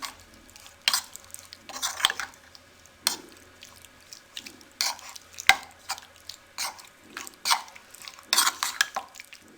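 Chicken being mixed with lemon juice and two tablespoons of chicken tikka masala for a pizza filling, with repeated bursts of spoon scraping and stirring in a bowl, close and moderately loud, no talking.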